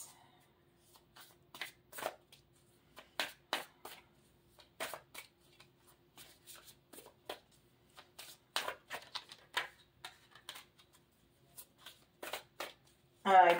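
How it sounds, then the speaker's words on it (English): A deck of cards is shuffled in repeated short riffling bursts separated by quiet pauses, close and crisp. "I pre-shuffle the cards"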